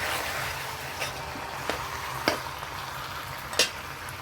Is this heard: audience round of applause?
no